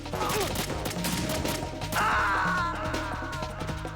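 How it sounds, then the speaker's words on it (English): Shotgun blasts and gunfire in the stealth action video game Metal Gear Solid 2, loud sharp bursts stacked over busy game music and effects, with no talk. "Dude, you had a shotgun and you missed."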